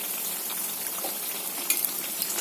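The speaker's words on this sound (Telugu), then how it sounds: "కలర్ అయితే గోల్డ్ కలర్ వచ్చేలాగా వేపుకోండి" Wheat flour and egg biscuits fry in a pan, giving a steady close sizzle with faint crackles and a few sharper pops near the end; no one speaks.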